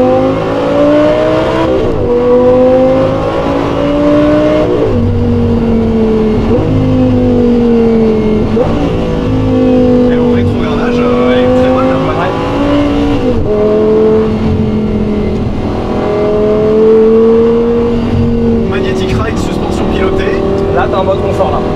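Audi R8 V10 engine revving and pulling hard, a loud sustained roar that rises and falls through several gear changes, heard from inside the car with people talking over it.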